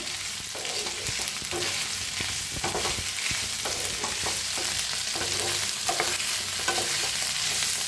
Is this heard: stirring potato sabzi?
yes